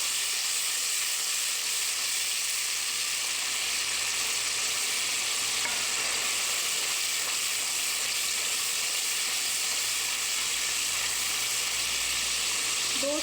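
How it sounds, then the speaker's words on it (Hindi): Golden fried onions with ginger, garlic and green chili paste sizzle steadily in hot oil while being stirred for chicken haleem, a dense, continuous close hiss with faint scraping from the stirring and no talk. "इसमें हम ये पेस्ट डाल देंगे अदरक लहसुन और हरी मिर्च का।"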